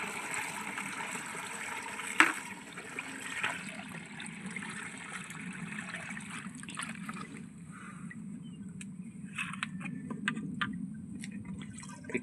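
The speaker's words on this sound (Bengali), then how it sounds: "এটা দেখুন জল দেওয়া হচ্ছে এটা" Water is poured onto the base of a guava tree, giving a steady, soft splashing wash with a few sharper drips and spatters scattered through it. No one speaks.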